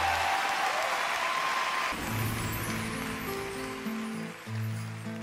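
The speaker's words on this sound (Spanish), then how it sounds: "Un aplauso para el maestro" Applause from a television talent-show audience for a singer doing an impersonation fills the first two seconds, then gives way to sustained instrumental music.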